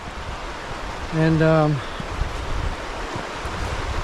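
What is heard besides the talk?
river flowing alongside a hiking trail in a gorge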